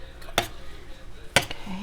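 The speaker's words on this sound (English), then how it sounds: "now I'm gonna cut some of that crust away" A knife trims away apple pie crust against a pie dish, giving two sharp scraping clinks about a second apart, close and fairly quiet, with faint background between.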